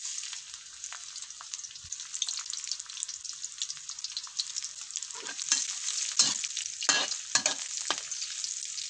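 Garlic and white rice noodles stir-fry in a pan, a bright crackling sizzle with busy scraping and tossing that grows louder and choppier toward the end, with no talking.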